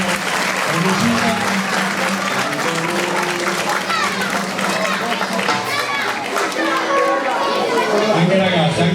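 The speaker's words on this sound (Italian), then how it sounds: "Facciamo ancora un applauso a queste ragazze, bellissime." An audience applauds girls at a children's carnival festival, sustained clapping mixed with lively chatter, children's voices and footsteps moving about, all fairly loud and continuous.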